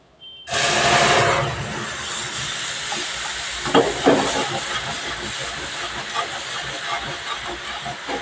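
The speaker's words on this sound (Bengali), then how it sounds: "এবার আমি অল্প অল্প করে দুধ ঢেলে দেবো।" Milk poured a little at a time into hot, browned caramel for sweet yogurt bursts into a loud, sustained hiss and bubbling sizzle that stays steady throughout, with no talking.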